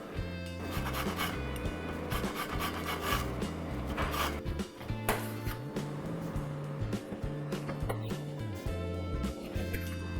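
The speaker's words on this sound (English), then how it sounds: "But first I'm going to zest 1 lemon to get some really nice lemony oils in there." A single lemon is zested against a grater, giving a steady run of close, rhythmic rasping scrapes with short pauses between strokes, over soft background music.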